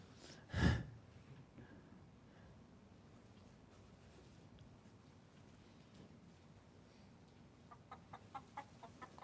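A single sharp chicken squawk near the start, then quiet background hiss, and a quick series of faint, rhythmic clucks toward the end, from the video game Tappy Chicken.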